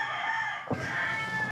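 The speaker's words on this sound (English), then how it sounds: "Brandan wakes up to chickens making love noises or whatever they do" A rooster crows and chickens cluck in the morning, a short burst of fowl calls with a sharp cackle partway through, fairly close and alone without voices.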